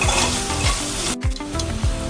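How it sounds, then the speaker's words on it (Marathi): Turmeric and red chili powder sautéing in a kadhai, a steady close sizzle and fry with repeated scraping stirs of a spoon against the pan, no voices. "त्याच्यात थोडी हळद टाकून घेतली, थोडी लाल मिरची पावडर, ते पण व्यवस्थित परतून घेऊ"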